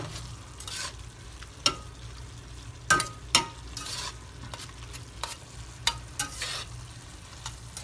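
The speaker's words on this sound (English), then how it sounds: "you gotta stir it and you gotta move it around to make sure that all these pieces are broken out" Meat for a Spanish lasagna fries in a pan under a low, steady sizzle, broken by irregular sharp scrapes and clacks of a utensil stirring and breaking up the pieces, close and without any voices.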